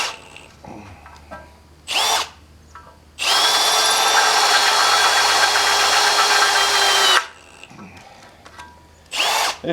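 A Milwaukee power drill with a newer-generation bit bores into wood at a sawmill: short bursts near 2 and 9.6 seconds, then one sustained loud run of about four seconds, close and steady with a high whine.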